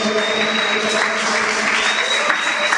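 A church congregation applauds after a Bible reading, a sustained burst of clapping from a crowd filling the room, steady and fairly loud for the whole span, with a faint tone and voices murmuring beneath.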